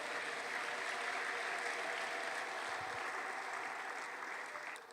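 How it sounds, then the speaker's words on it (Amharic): A church congregation claps during a sermon, a sustained, even wash of hand-clapping that holds steady throughout with no voices standing out. "አጨብጭቡ ሃሌሉያ"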